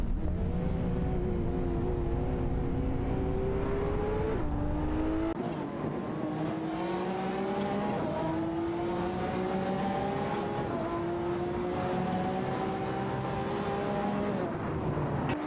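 Several race cars in a racing video game, including a McLaren 570S, drone along with engines howling and shifting pitch as they rise and drop, layered and continuous, with no speech.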